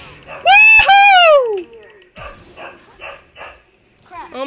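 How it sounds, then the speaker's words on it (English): A puppy lets out a loud, high yelping howl followed by a run of quick sharp yips, close by, heard alongside the sounds of a computer game. "Oh my gosh, my puppy is going crazy."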